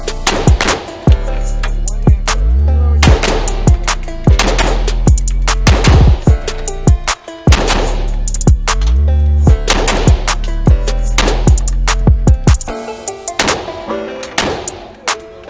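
An AR-15 rifle fitted with a folding stock adapter fires a long series of sharp, loud shots at an outdoor range, some in quick pairs and others spaced apart, each with a ringing echo and no talking.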